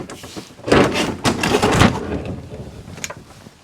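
Bedroom doors inside a Fleetwood two-bedroom RV are pulled shut, giving a few soft thuds and sliding clunks close by, with a light click near the end and quiet room noise between.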